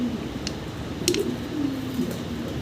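Mundian fancy pigeons give soft, low cooing calls over a constant background hum, with a few faint brief chirps from other birds mixed in.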